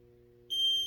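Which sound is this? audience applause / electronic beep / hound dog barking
electronic beep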